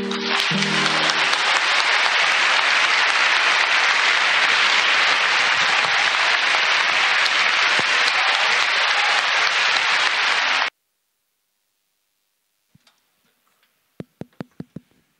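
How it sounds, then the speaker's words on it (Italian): Audience applause at the Genoa International Poetry Festival, a dense sustained wash of clapping for about ten seconds that stops abruptly, followed by near silence and a few scattered ticks and clicks. "direi un applauso"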